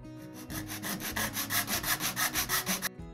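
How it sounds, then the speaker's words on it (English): A small semi-circle file scrapes burrs out of an opening on a homemade shotgun mic shock mount, quick rhythmic back-and-forth rasping strokes, close and steady, about a dozen in a row. "Taking a little semi-circle file and I'm just getting in there, cleaning out those burrs that are on there."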